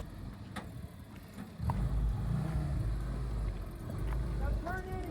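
An antique Jeep engine rumbles and revs as the vehicle crawls over rock in Pritchett Canyon, growing louder partway through and holding steady, with wind noise and people talking nearby.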